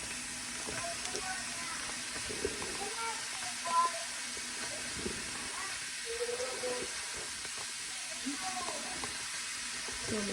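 Onions and peppers sauté in a pan for curry chicken, giving a steady, close sizzle with occasional stirring clatter and a faint murmur in the background.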